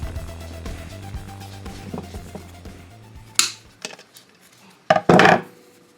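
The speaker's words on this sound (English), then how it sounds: "Then unscrew this." An electrical socket outlet being unscrewed gives small metallic clicks and scrapes, with a low hum early on and a few sharper taps and rattles close by toward the end.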